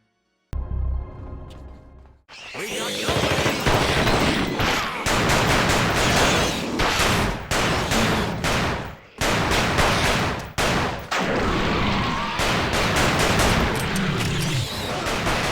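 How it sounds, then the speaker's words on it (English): Rapid bursts of third-person shooter gunfire from The Thing Remastered video game, loud and nearly continuous machine-gun volleys broken by brief pauses, with no talking. "When it comes to the shooting of the Thing video game, it's pretty par for the course when it comes to third-person shooters."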